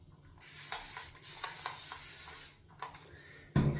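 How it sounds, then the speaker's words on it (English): A sprayer misting water during wet shaving lathering gives several short hissing spritzes in quick succession, close and clear, with a brief gap before a final thump. "and then I have a sprayer here"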